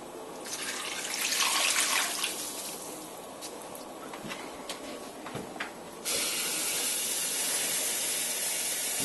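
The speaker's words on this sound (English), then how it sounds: "We're going to add some water." Tap water runs into a cooking pot on the stove, a steady hissing rush that shifts pitch as the pot fills, continuing alone without talk.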